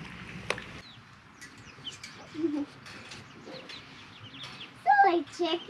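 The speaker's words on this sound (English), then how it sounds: "Silly chicken." Chickens cluck in short, scattered bursts at a farm, fairly close, with a sharp louder squawk near the end and quiet rustling between calls.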